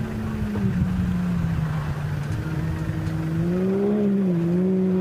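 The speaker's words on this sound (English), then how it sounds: "Sounds like another one of our side-by-sides coming through as well." A Can-Am side-by-side off-road vehicle races past at the Finke Desert Race, its engine droning loudly and steadily, the pitch dipping then rising as it passes close by.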